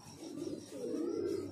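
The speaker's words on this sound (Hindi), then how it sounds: "32 कबूतर उड़ रहे हैं भाई।" Pigeons coo in soft, low, rolling phrases close by, with faint flutter and background chirps as a flock of about 32 birds flies overhead.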